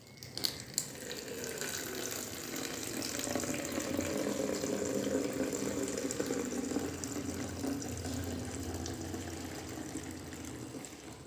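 Salt water pours into an empty bottle in a steady, continuous splashing stream lasting several seconds, near and moderately loud, with no talking.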